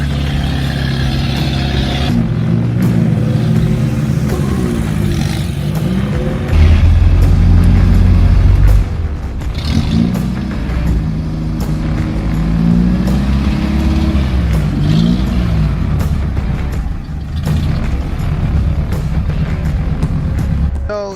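An off-road build's engine idles low and rough on a Moab, Utah trail, a loud continuous rumble that swells and sags as if about to stall, with a heavier surge partway through.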